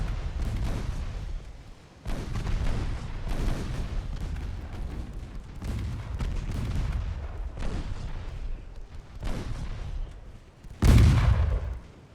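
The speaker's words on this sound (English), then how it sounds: "That was a 3-inch hit from the battleship." Naval gunfire in an Ultimate Admiral: Dreadnoughts battle, including a 3-inch shell hit from a battleship: a series of heavy, booming blasts with rumbling tails, the last one louder and closer.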